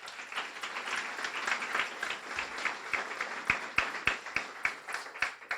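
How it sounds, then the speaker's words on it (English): Applause from an audience at a guide dog school's November graduation ceremony, a steady crowd clapping throughout with a few sharper, closer claps standing out near the end. "Warm round of applause, please."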